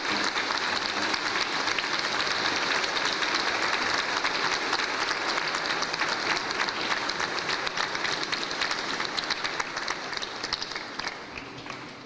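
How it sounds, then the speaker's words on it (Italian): Children in a church at the end of a Mass at San Pio X, Conegliano, clap together in a long, even round of applause that fills the room and fades slightly at the close. "un primo applauso potete proprio farvelo a voi"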